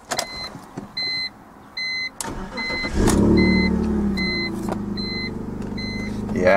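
An old, cheap BMW car in need of a tune-up and running on stale gas, heard as chimes sound, the starter cranks and the engine catches into a steady idle, close and loud.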